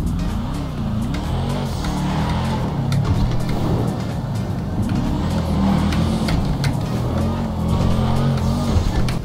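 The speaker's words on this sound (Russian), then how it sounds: "Это не Subaru, это оппозитный звук," Boxer engine of a tuned car in the SMOTRA RAGE video game, a steady loud droning engine note with rising revs and brief tire noise throughout.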